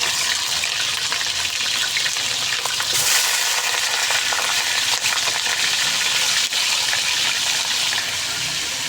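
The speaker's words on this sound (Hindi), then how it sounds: "इसके साथ हम चिकन ऐड कर देंगे। चिकन को फ्राई करेंगे अच्छे तरीके से।" Chicken sizzles and fries hard in hot ghee with garam masala in a kadai, a loud, steady crackling hiss that continues without a break and is heard alone.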